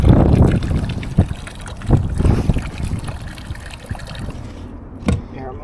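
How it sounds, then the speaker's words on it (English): Water drains from a magnet-fished object and splashes onto rocks outdoors, a close, uneven trickling and dribbling with a few sharper splashes and knocks, under steady wind noise. "Look at all that water draining out of there."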